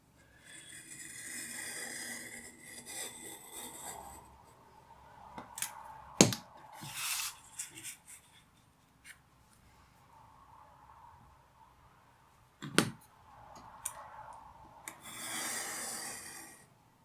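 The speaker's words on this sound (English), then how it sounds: "now I'm just going to cut the hole out of the centre with my straight edge and my knife" A craft knife drawn along a straight edge cuts a hole from the centre of a lino-print registration device, giving close raspy scraping strokes in bursts, separated by quiet pauses and a few sharp clicks.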